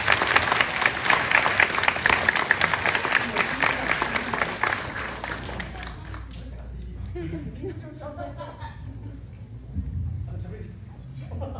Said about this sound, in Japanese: ありがとうございました。 拍手。